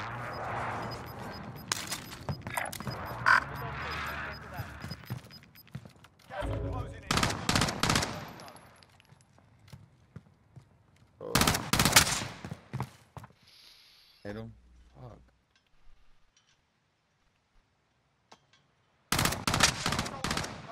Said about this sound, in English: Crack, one shot.